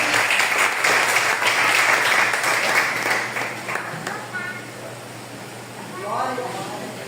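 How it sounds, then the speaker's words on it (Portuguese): A church congregation at an evangelical Sunday service claps together, a broad wash of applause that softens midway while a voice speaks faintly underneath, then rises briefly again near the end. "Vamos receber as palmas do Senhor Jesus?"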